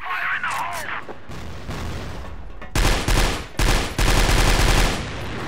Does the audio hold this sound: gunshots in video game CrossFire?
yes